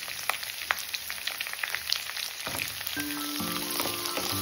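Onion and capsicum pieces frying in a pan, a steady close sizzle with crackling pops and a faint tonal hum toward the end.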